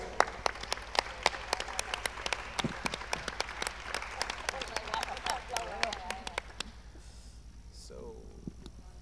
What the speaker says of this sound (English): An applause for FOMO.